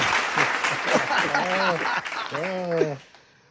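Studio applause on an interview show, spread across the whole stretch with voices talking and exclaiming over it, then thinning out and fading near the end.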